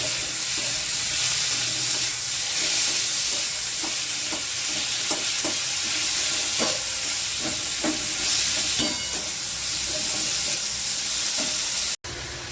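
Four dried red chillies, four green chillies and a small piece of ginger sizzle and crackle in hot oil in a frying pan, a continuous close fry with occasional stirring scrapes and pops, ending abruptly.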